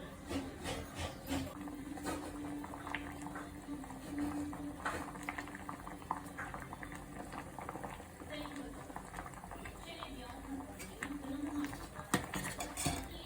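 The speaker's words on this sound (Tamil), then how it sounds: "குழம்பு நல்லா கொதிக்கட்டும்" A pot of drumstick-leaf sambar with mango bubbles and simmers steadily, with scattered clinks and scrapes of a utensil against metal over the gentle boiling.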